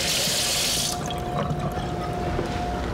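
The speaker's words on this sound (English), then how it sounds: "I just like to give it a quick rinse just in case there was some" Frozen alligator meat is rinsed under a running kitchen tap: a steady close gush of water for about a second, then quieter trickling and dripping with no talk.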